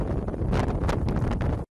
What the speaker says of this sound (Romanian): Mai sus, la cota 1800, viscolește.